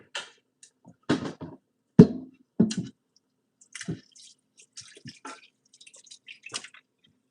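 Water runs and drips as food is rinsed while cooking banku and okra stew, with soft splashes and squishy handling in uneven bursts, close but fairly quiet, and no talk.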